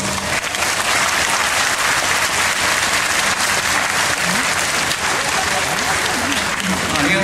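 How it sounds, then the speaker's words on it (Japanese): A concert audience at an outdoor ukulele festival applauds steadily and loudly for a band, a dense continuous wash of clapping with faint voices beneath it. "もう一度大きな拍手お願いします"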